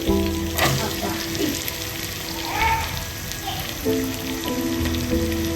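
Potato, carrot and beans sizzle loudly in hot tempering oil for rava upma, with a continuous frying hiss, crackles and occasional stirring.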